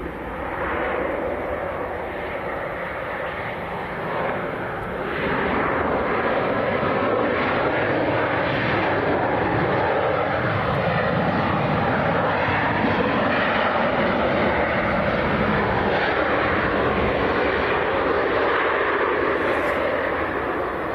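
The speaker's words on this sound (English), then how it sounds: "I can hear an aeroplane, Tom, and I can just see some lights. Here it comes. So I believe this is Jet 2 from Alicante." A Jet2 Boeing 737-800 airliner arriving from Alicante passes at Leeds Bradford airport, its engines roaring loud and close in a broad, sustained rush that builds and holds for the full stretch.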